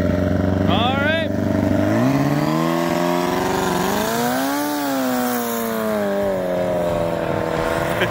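A dirt-style motorbike engine fires up and runs steadily, its loud rumbling idle rising and falling through a couple of throttle blips close by, with no talk over it.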